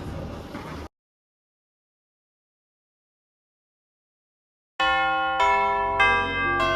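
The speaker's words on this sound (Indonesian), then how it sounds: "Bel istirahat berdering nyaring" A loud, bright school bell rings out for recess with a sustained metallic tone after a short burst of noise and several seconds of silence, ringing steadily with slight pulses.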